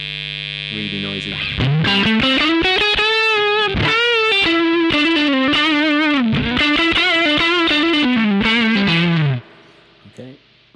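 Distorted electric guitar through a Joyo American Sound amp simulator pedal on its Fender Twin setting with gain fully up, loud, saturated and noisy sustained chords for about eight seconds, then cut off to near silence.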